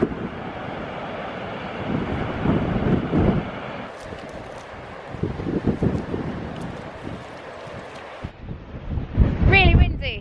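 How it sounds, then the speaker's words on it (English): Strong, gusty coastal wind at Mawgan Porth near Newquay as Storm Arwen approaches roars and buffets the microphone in rising and falling surges, with a few brief vocal sounds mixed in. "But it is a strong wind today"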